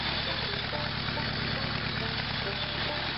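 A rat rod car engine, fitted with a new ignition, idles in a steady, low rumble with a rhythmic pulse. The sound holds at moderate loudness throughout with no voices.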